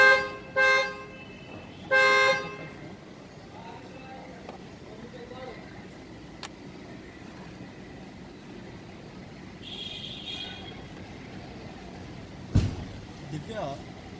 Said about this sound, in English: I think you are honking too much.